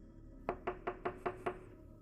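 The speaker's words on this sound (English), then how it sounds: "Another knock, this time on the side door." Six even, hollow knocks on a door, spaced about a fifth of a second apart, sharp and close against a quiet background.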